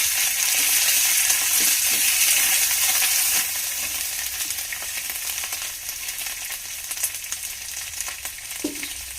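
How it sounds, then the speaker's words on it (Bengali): Ginger, garlic and dried chili paste sizzles and is stirred in a frying pan, a loud steady hiss that eases slightly partway through, with a few soft scrapes of stirring. "আদা আর শুকনো লঙ্কা বেটে রেখেছিলাম, ওইটা দিয়ে দেবো। দিয়ে একটু নাড়াচাড়া করবো অল্প করে।"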